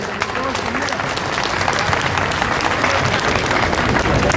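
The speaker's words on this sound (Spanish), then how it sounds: "yo quiero agradecerles con un aplauso" A crowd applauding steadily at a tribute ceremony in San Cristóbal de las Casas, a dense wash of clapping hands that holds strong throughout.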